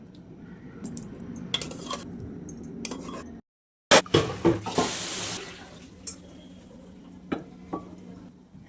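Tap water runs at a sink in bursts, with splashing and clinks of potatoes knocking against a bowl or pan of cold water, close and moderately loud.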